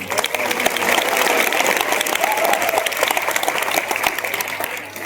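Loud, sustained applause from a crowd at a high school function, dense clapping that holds steady for several seconds before easing slightly at the end.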